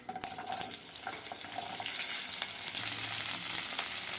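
Okra frying in oil with mustard and cumin seeds, for a garlic-chili bendakaya fry; a quiet, steady hiss of sizzling oil with a few scattered pops and stirring clicks, growing denser in the second half, no voices.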